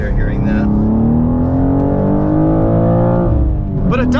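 A 2023 BMW M2 with a six-speed manual gearbox drives under load, its engine tone climbing steadily and then dropping off, loud and near, with a voice over it at the end.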